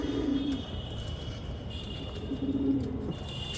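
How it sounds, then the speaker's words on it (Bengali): Flying pigeons kept on a rooftop coo softly in low, repeated murmurs, with a faint steady background hum and no talking. "এগুলো উড়ার কবুতর"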